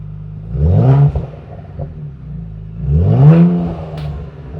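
A Ford Explorer ST with an MBRP street exhaust revs hard twice, rising and falling in pitch each time, with a deep exhaust growl and a lower idle rumble between the blips.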